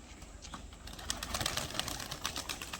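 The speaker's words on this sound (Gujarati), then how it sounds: "આ આપણા ભાઈ કબૂતર," Pigeons on the rooftop of a water tank give soft, low cooing, with faint rustles and light tapping around them, close by but quiet against an outdoor background.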